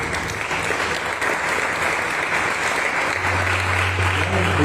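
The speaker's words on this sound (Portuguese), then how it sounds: "Palmas ao Senhor Jesus." A church congregation applauds for Jesus during a sermon, dense continuous clapping from many hands filling the room, steady and loud with a low hum emerging near the end.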